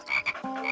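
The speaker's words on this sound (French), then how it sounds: "Ah, une grenouille." Frog croaks in a short, close, rasping pulse lasting under a second, heard alone without talk.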